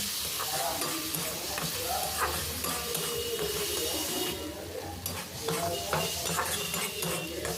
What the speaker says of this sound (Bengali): তারপরে এখানে জিরে গুঁড়ো পরিমাণ মতো লবণ দিয়ে ভালো করে এটা মিক্স করতে হবে একটু কষে নিতে হবে